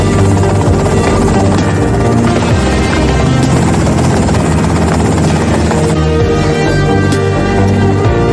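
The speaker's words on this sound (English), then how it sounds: "that's them in the chopper" A helicopter in the video game GTA: Vice City drones loudly and steadily with a dense rotor buzz throughout, up close and unbroken.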